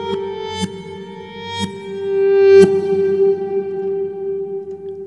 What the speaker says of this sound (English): So you've got a backward guitar sound with reverb on.